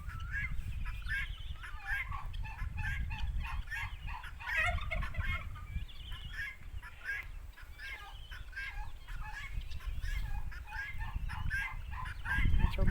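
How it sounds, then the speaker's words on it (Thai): A flock of turkeys gobbling continuously, many overlapping calls in rapid bursts over a steady low rumble, with some clucking fowl mixed in. "ฝูงไก่งวง"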